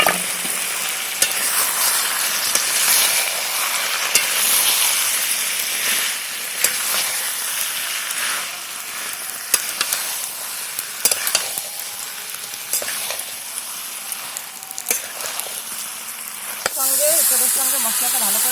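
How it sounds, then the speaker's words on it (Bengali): Green jackfruit sautés with spices and previously fried potatoes in a pan, a loud, close, continuous sizzle with scattered spoon knocks and scrapes, swelling into a sharper hiss at the very end. "এঁচড়ের সঙ্গে মশলাটা ভালো করে কষিয়ে নিয়েছি"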